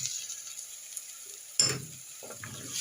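Garlic cloves dropped into a pan of browned onions, with a sudden loud sizzle that settles into a steady frying crackle, heard close up with no talking.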